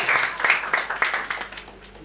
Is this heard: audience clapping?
yes